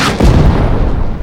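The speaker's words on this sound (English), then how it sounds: "In an act of desperation, they call for an airstrike on the NVA" Airstrike explosions pound an NVA-held bunker position in the Vietnam War: a loud, sustained roar of blasts and deep rumbling fills the whole stretch, with no voices.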